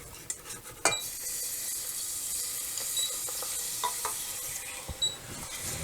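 Milk being stirred into a hot pan on the stove for eggs à la goldenrod, a steady sizzling scrape with a few sharp utensil clinks against the pan, close and moderately loud with no talking.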